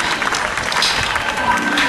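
A crowd at a Rock Master 2008 climbing competition claps briefly, a dense burst of applause with some cheering mixed in.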